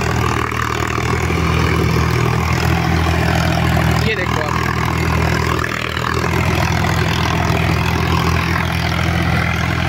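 A Sonalika 745 tractor engine idles close by with a steady, heavy low throb that holds for ten seconds, while someone speaks briefly over the running engine.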